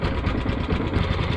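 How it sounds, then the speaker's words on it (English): A Backwater Swomp Lite 13hp mud motor idles on a boat during a water trial, a close, steady engine chug with a fast, even pulsing beat and no talking. "get the engine warmed up, make sure everything works good"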